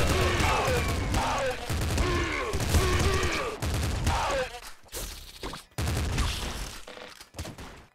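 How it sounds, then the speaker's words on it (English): In the video game Nuclear Throne, a double flame shotgun fires in rapid repeated blasts. Dense bursts of gunfire run in quick succession and break off into short gaps, with game effects filling the background. "Double flame shotgun."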